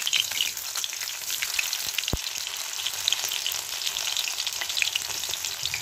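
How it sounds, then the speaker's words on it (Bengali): Pieces of banana flower fry in hot oil with a constant close crackle and sizzle, with dense popping spatter and one sharp tap partway through. "এইভাবে আমি সব কটা মোচার টুকরোই ভেজে নেব।"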